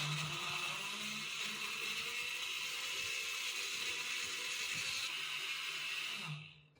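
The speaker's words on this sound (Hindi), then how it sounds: "आमों को हम बहुत अच्छे तरीके से हम ग्राइंड करेंगे, यानी फुल प्यूरी बना लेंगे।" An electric blender grinds peeled mango pieces into a smooth puree with a steady, dense whir that continues unbroken and then winds down at the end, with no one talking.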